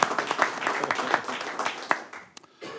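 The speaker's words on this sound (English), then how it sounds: "You can clap for that one too" Audience at a school board meeting applauding, a burst of many hands clapping that thins out and fades over a few seconds, with a few scattered claps at the end.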